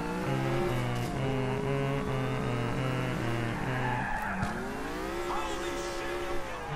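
A car driving in GTA IV, engine droning with rising and falling revs while tires squeal and skid through turns, loud and close throughout.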